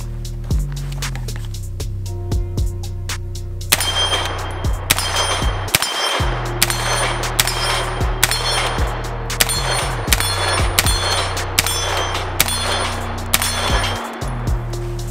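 Rapid shots from a Battlearms Xiphos 9 pistol at a steel target tree about 20 yards away, a fast string of sharp cracks with metallic pings ringing back from the plates.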